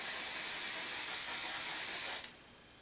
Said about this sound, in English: now I'm gonna go ahead and flip it over and spray the other side of it as well